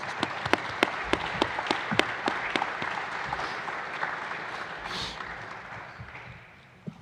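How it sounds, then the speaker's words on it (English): A press-conference audience applauds Creighton volleyball coach Kirsten Bernthal Booth at her resignation announcement, with sharp individual claps standing out over a steady patter that thins and fades near the end. "So if we can give her one more round of applause before she gets to speak."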